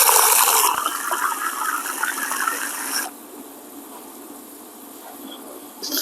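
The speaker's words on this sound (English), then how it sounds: "Now I'm going to add a vigorous spray of cold water to each container." A vigorous spray of cold water gushes into containers holding tomato seed pulp, loud and splashing for about three seconds before cutting to a much quieter hiss.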